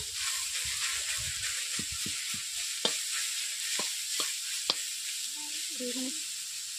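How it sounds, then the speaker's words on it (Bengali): A metal spatula stirs dried susni greens in a hot pan. Soft sizzling and hiss run underneath, with a series of sharp scrapes and knocks against the pan, close by and without speech. "খুন্তি দিয়ে এইভাবে আমি নেড়ে নিচ্ছি।"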